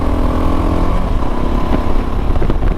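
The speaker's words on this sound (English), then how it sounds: "I'm just going to give it some gas and take off" A DRZ400 motorcycle fitted with a Rekluse clutch pulls away under throttle, a loud steady engine drone rising in pitch as it accelerates, with clattery mechanical noise and no voices.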